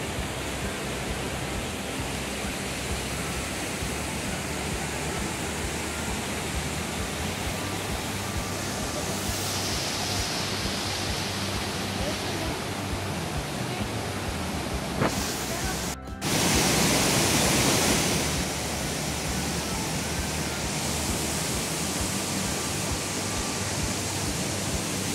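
Cascada de la Burbuja waterfall near Amecameca, a steady broadband roar of falling water filling the whole clip, with a brief louder surge partway through and faint voices in the background.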